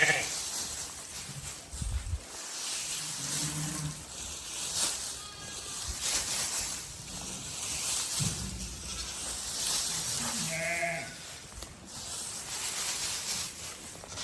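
Sheep in a straw-bedded farm pen give a few scattered bleats amid rustling and handling noise, with a person talking at times.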